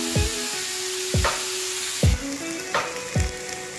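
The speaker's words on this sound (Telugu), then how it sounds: "ఇలా దగ్గరికి వచ్చేయాలండి బాగా ఫ్రై అవ్వాలి" Mutton-fry base sizzling steadily in a pan, broken by several sharp stirring scrapes of a spoon against the metal at irregular intervals, close and fairly loud with no talking.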